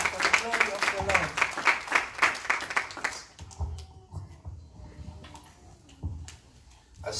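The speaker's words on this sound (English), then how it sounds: "Let's put our hands together for the glory of the Lord." Church congregation clapping hands in rhythm, a dense run of bright claps for about three seconds, then scattered claps and softer sounds under a voice speaking.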